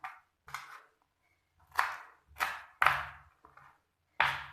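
Fresh, washed coriander chopped roughly with a knife on a board, heard as about six close, sharp chops in an uneven rhythm separated by silent pauses.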